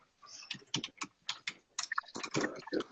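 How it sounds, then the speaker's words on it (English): Rapid, close-up typing on a computer keyboard, a quick irregular burst of crisp key clicks with brief pauses, heard alone without talk. "I'm actually typing that up."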